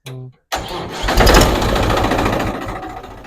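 A Mahindra tractor engine starting up close: a short starter whir, a brief pause, then the engine catches and settles into a loud, steady, rumbling idle.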